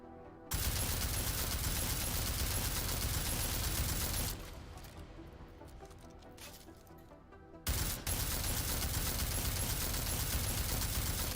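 A gun in Deus Ex: Mankind Divided fires in long, dense, sustained volleys of automatic fire, loud and close, with a few seconds' pause between them where quieter game sounds remain.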